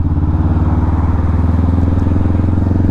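Honda Rebel 500 motorcycle fitted with a Vance & Hines exhaust, idling close by with a loud, steady, deep throbbing burble and even pulses throughout.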